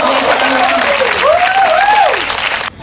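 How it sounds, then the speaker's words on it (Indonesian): An audience gives steady, loud applause that runs unbroken for nearly three seconds, with a voice rising over the clapping before it cuts off abruptly. "Beri tepuk tangan."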